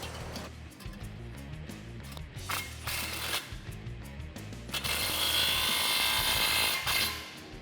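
Ratchet tightening an exhaust clamp on a 2015-2017 Mustang GT Roush cat-back exhaust, with rapid clicking strokes and metallic clanks close by, building to a louder harsh burst near the end.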